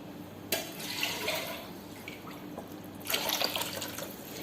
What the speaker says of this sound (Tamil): தேவையான அளவு தண்ணி சேர்த்து கலந்து ஊற்றிக்கலாங்க.